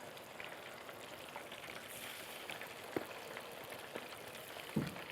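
Squid and shrimp deep-frying in hot oil in a home kitchen, giving a steady, fairly quiet broadband sizzle with occasional sharper pops and crackles spread through the clip.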